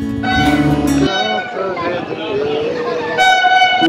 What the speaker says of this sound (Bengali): ট্রেন এখন প্রবেশ করছে মল্লারপুর স্টেশনের 4 নম্বর প্ল্যাটফর্মে।